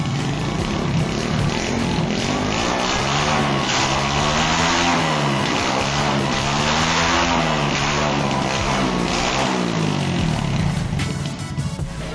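A modified tricycle engine revs and accelerates hard, a loud continuous roar with rising and falling pitch sweeps held close throughout.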